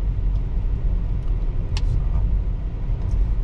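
Inside a Tesla driving itself along a road near Houston, a steady low road rumble and tire noise continue throughout, with a few light clicks inside the cabin.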